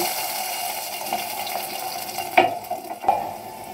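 Water splashes into a pan of frying chopped onions and garlic, sizzling steadily with two sharper hissing bursts near the end as it hits the hot oil.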